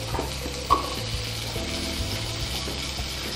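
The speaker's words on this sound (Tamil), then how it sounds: "நம்ம சின்ன வெங்காயம் ஃபுல்லுத்தையும் சேர்த்துக்கலாம்." Small onions frying in a pan for country chicken rasam, giving a soft, steady sizzle with a brief clink near the start and no voices.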